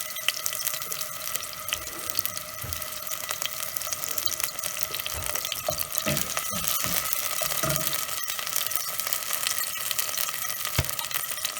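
Finely minced jarred garlic frying in a hot pan for a homemade pizza sauce, a steady close, bright sizzle and hiss running throughout with a few faint clinks and stirring scrapes, no talking.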